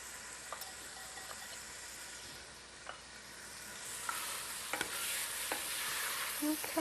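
Seitan browning in a pan, a steady frying sizzle that grows louder and brighter partway through, with occasional spatters and faint stirring clicks.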